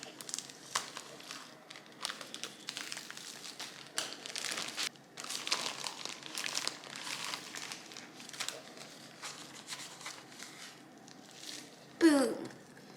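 Trusty scissors cut open a bag of mini marshmallows amid repeated plastic crinkling and rustling, close and moderately loud over several seconds. A short voice sounds near the end.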